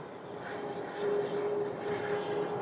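An airliner taxis at Phoenix Sky Harbor airport, its engine giving a steady, moderately distant whine and rumble that swells slightly partway through, with no talk.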